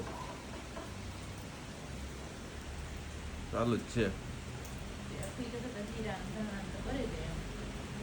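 Steady winter rain falls outdoors as a soft, even hiss throughout, with a few brief louder rustles near the middle and people talking quietly over it.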